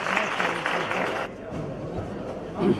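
Applause from an audience at a formal event with a governor as chief guest, a dense clatter of clapping that cuts off sharply partway through, followed by a murmuring crowd.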